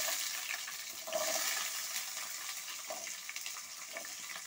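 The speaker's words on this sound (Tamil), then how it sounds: "சின்ன வெங்காயம் போட்டு நல்லா வதக்கலாம்." Small onions sizzle in hot oil in a pan as the base for a fish curry, a steady close frying hiss with faint stirring scrapes and no talking.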